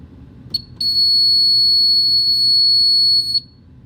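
Fire alarm on a superyacht set off during a smoke detector test: a brief chirp, then one loud, steady high-pitched electronic tone lasting about two and a half seconds before cutting off.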